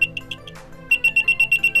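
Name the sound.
vibration-triggered anti-theft buzzer alarm sounding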